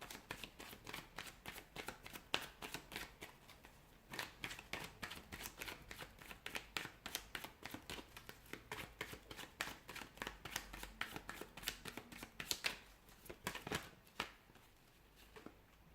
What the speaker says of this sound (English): let's go ahead, give the cards a shuffle and begin